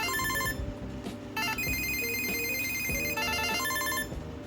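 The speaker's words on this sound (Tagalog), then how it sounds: "Pwede mong baguhin yung ringtone dito." A phone ringtone previewed in the settings of an Ugreen tracker app plays as a loud, bright electronic melody of repeated beeping tones, with a brief gap and then a restart, heard alone without talk.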